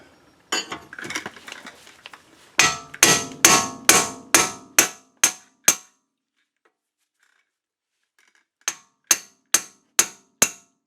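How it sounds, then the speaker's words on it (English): A hammer driving a fork into an Audi Q5 ball joint, loud metallic clangs in a quickening run of about eight blows with ringing decay, a pause, then five more evenly spaced strikes. "I'm just going to drive it in there with a hammer"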